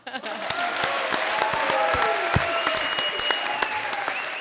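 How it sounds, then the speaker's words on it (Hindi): Loud audience applause from a studio crowd at a television comedy show, dense clapping with sharp individual claps standing out, while music plays underneath. "मेरे लिए जोड़ो तालियां।"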